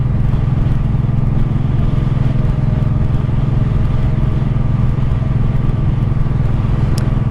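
1984 Honda Shadow 700 VT700C motorcycle riding along at steady speed, a loud continuous low engine rumble mixed with road and wind noise, no talking.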